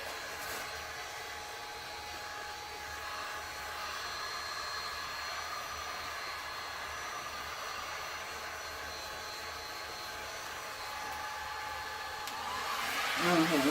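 A heat gun hums steadily with a continuous airy blowing whir while warming resin poured on a 12 by 24 inch canvas, holding level for several seconds and swelling louder near the end.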